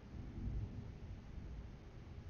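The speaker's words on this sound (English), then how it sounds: "That would be the thunder." Thunder in the pirate-sailing video game Atlas: a low, continuous rumble with soft rolling swells, fairly quiet and without any voices.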